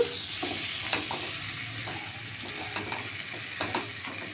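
Fish heads and rice sautéed in a dry wok for murighanta, steady sizzling broken by scraping stirs and light clatter of the spatula, close by, without talk.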